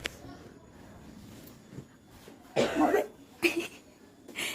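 A person coughs at close range in a home setting, a burst of two or three rough coughs followed by another short cough a moment later, with quiet room noise between.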